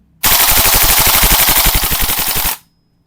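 A budget Well Pro gas blowback airsoft rifle fires full auto, one loud rapid burst of evenly spaced shots lasting about two seconds before stopping abruptly, close by with no talk.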